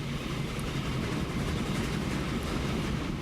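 A freight train runs on rails in Transport Fever as a steady, dense rumble with faint clickety-clack, continuous and fairly loud with no pauses.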